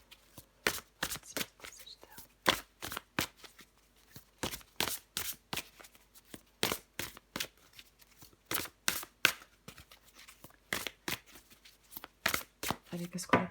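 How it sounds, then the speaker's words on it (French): Tarot cards are shuffled and drawn, giving a steady close run of crisp riffling snaps and flicks with a fairly even rhythm throughout. "je prends encore une carte pour vous"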